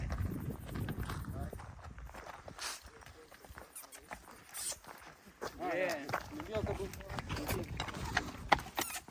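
Horse hooves clop slowly on the ground while people talk over them, with outdoor background noise throughout.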